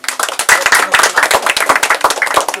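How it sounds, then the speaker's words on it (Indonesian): Brisk hand clapping from a small group at a Ramadan package handout event, loud and close, with fast uneven claps packed densely throughout. "Tepuk tangan."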